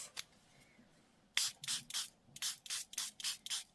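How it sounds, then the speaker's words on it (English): A hand spray bottle mists water onto a sheet of paper in a crafting setting, a string of about eight sharp hissing spritzes in quick rhythm after a quiet start. "I want to actually spray water on the inside of this."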